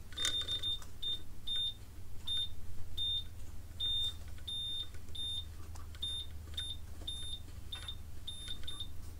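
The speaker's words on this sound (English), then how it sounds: "I've got it hooked up to my meter in continuity test." A multimeter in continuity mode beeps in short, sharp, irregular bursts as the drive shaft of a Westinghouse Mastermind LF700B washing machine is turned by hand. The beeps sit over a low steady hum, with no talking.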